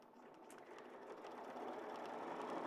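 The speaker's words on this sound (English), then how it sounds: "So I'm going to stitch my cuff together now" Sewing machine running steadily while stitching a garment cuff together, a continuous mid-level mechanical whir that builds slightly louder over a couple of seconds, with no voice over it.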